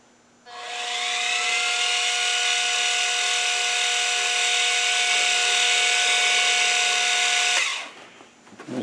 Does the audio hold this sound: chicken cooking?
no